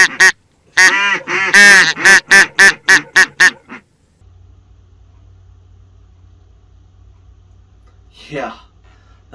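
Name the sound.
duck call imitating duck quacks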